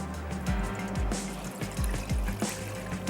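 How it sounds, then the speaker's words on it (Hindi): Water poured into a wok while making cardamom syrup in a home kitchen, a steady close trickle and splash with gurgling pulses throughout. "तो हम इसमें ऐड कर देते हैं पानी।"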